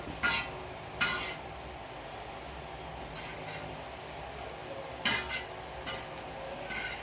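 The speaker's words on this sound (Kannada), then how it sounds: "ಸ್ವಲ್ಪ ಕೆಂಪಗಾಗೋಂಗೆ ಹುರ್ಕೋಬೇಕು ಫಸ್ಟು." Bursts of scraping and clinking as a spoon stirs ingredients frying in a pan for a North Karnataka village-style dish, in short separate strokes over a faint steady sizzle.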